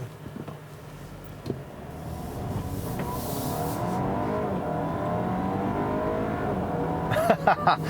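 Acura RDX A-Spec with a 2-liter turbo engine driving on a road, a steady engine hum building gradually in the cabin, with a few faint knocks and rustles near the end.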